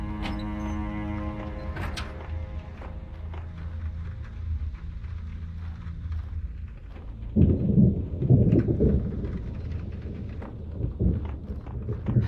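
Rain and rolling thunder in the video game Max Payne 2, a steady wash of rainfall with low rumbling claps, swelling into a louder, closer thunder burst midway before easing back to steady rain.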